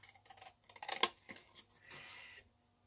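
Scissors snip around paper ephemera close up, a few quiet crisp cuts and rustles of paper in a short burst, faint and intimate with no talking.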